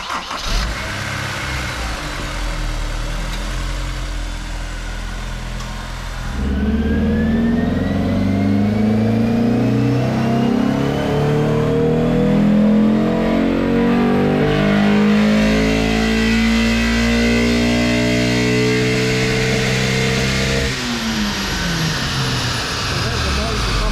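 A Honda S2000 AP1 engine with a broken rocker and faulty VTEC starts, idles roughly, then revs up unevenly, sounding strained as it climbs into VTEC; steady and close throughout.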